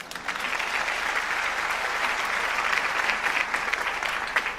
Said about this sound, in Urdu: آپ کی بھرپور تالیوں میں انہیں اسٹیج پہ دعوت دیتی ہوں